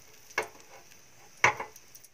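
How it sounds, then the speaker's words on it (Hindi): Two short crackling bursts of cumin seeds sizzling in hot oil, a second apart, with a faint steady hiss between them. "थोड़ा सा तड़का लगने देते हैं जीरे को।"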